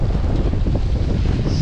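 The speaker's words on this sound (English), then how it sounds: "Absolutely windy out here" Strong gusts buffet the microphone out on a lake during a fishing trip, a loud continuous low roar of wind with some watery wash underneath and no voices.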